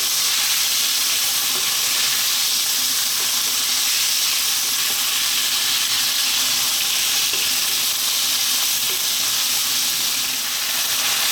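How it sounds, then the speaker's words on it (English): Beef pieces fry on high heat in a pan for a steak and mushroom cream pasta, giving a loud, steady, close sizzle and hiss that runs unbroken throughout with no talking. "On a high heat, we're going to throw this around for about 4 minutes."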